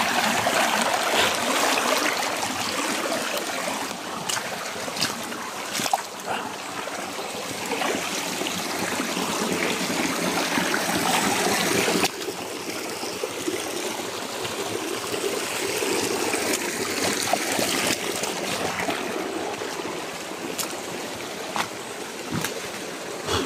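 Steady broadband rush of a forest creek flowing continuously across the whole stretch, close and fairly loud, with no voices over it.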